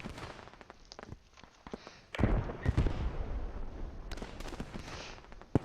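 An anti-tank gun fires in a wartime video game battle near Stonne: scattered sharp reports and distant thumps, then a heavier close blast with rumbling aftermath, faint overall.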